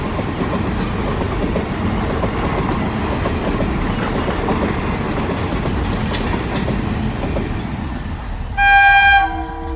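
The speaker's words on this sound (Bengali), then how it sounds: "স্টেশনে পৌঁছে টিকিট কাটতে না কাটতেই ট্রেন এসে গেল।" A train rolls into a station with a steady loud rumble and clatter of wheels and carriages, then its horn toots in bright repeated blasts near the end.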